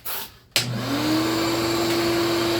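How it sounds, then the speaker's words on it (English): A shop dust collection system kicks on beside a bandsaw, a steady loud whooshing roar that starts after a brief pause and holds at full volume, with a rising motor whine settling into a constant tone. "I am going to throw the dust collection on for this one cut."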